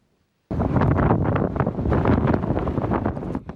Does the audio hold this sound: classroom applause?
no